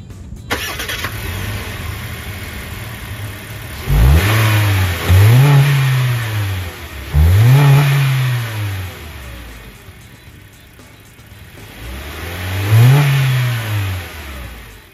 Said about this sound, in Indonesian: Dan pastinya kita pengen denger suara mesinnya karena kan mesinnya juga berubah katanya.